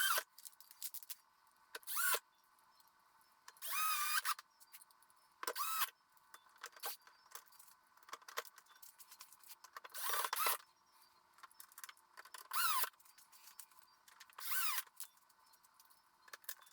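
Power drill driving screws into an Arctic King portable air conditioner, with repeated short whirring bursts separated by quiet pauses, close and fairly loud, no talking.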